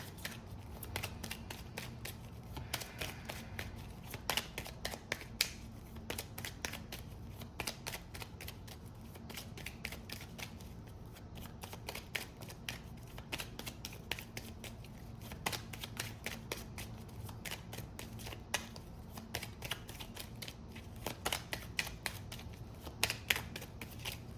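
A deck of playing cards is shuffled and riffled repeatedly in a tarot-style reading, giving steady bursts of crisp flutters and light snaps close by, with a low hum beneath and no talking.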